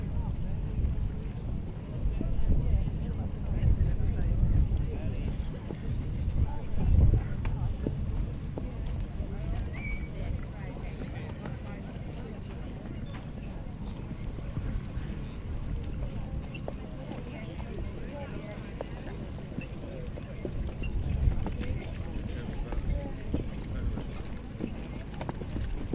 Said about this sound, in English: Let's get these horses in here today.